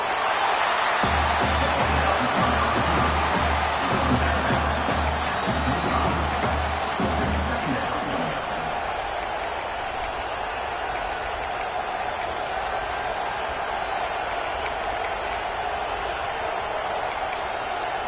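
Stadium crowd roaring in an NCAA 26 college football video game, Michigan versus USC, a steady broad wash of cheering noise with a rhythmic low thumping in the first half that fades away.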